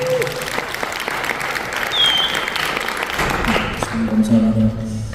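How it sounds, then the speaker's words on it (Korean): Audience applause at a Korean church conference on developmental disabilities as a pastor comes up to speak, a steady wash of clapping with some background voices and tones throughout. "우리 오실 때 뜨거운 박수로 격려해 주시기 바랍니다"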